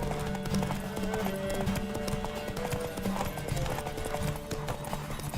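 Horse hooves clip-clopping steadily in The Witcher 3 video game, a constant rapid trot under a dense bed of game music and ambience, with faint voices mixed in.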